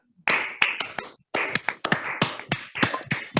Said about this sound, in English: let's give them very large rounds of applause